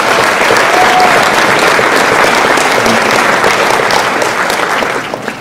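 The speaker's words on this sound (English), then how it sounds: "Let's give those athletes a round of applause." A school fall sports awards night breaks into sustained applause for the athletes, a full crowd clapping loudly and evenly for several seconds before it begins to thin out at the end.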